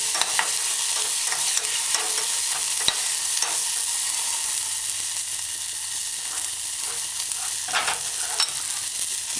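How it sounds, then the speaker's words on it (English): Diced okra and mashed garlic sizzle steadily in a frying pan as they are stirred, a continuous close hiss of frying with occasional scrapes and no talking. "Add your diced okra. Stir it in, stir it in."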